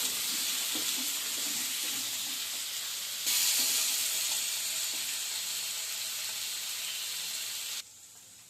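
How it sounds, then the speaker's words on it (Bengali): Small cut potatoes frying in oil in a pan with black cumin seeds, a constant close sizzle with faint occasional stirring clicks that briefly swells louder, then drops away abruptly near the end. "এবার নাড়িয়ে আলুগুলো একটু ভেজে নিতে হবে।"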